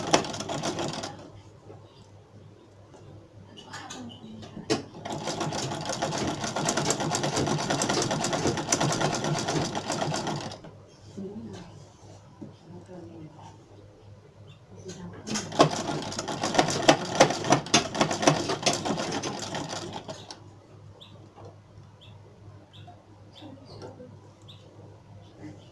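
A sewing machine stitches an Ankara print sweat jacket band in two long bursts of rapid, whirring mechanical chatter. Quieter pauses separate the bursts, and some faint handling noise can be heard in between.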